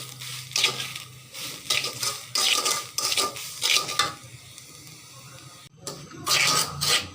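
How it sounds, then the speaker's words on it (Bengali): Hot sand being stirred in a pan to puff rice: repeated gritty scraping strokes, close and fairly loud, coming in steady bursts with brief pauses and no talking. "এই যে বালিটা নাড়তে নাড়তে বালিটা আমার গরম হয়ে গেছে"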